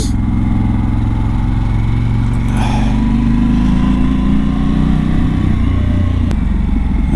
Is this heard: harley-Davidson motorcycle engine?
yes